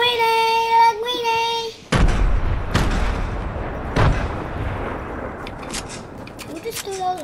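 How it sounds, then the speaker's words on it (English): Game grenade blasts in an online shooter: a few heavy booms with long rumbling decay, the first one loud and sudden, then further thuds, after a stretch of tonal in-game sound. "You just threw those grenades."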